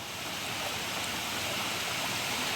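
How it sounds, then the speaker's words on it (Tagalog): Water flowing steadily at a farm waterfall, a continuous broad rushing wash at moderate level with no break and no voices. "Napakita natin yung agos mismo ng water."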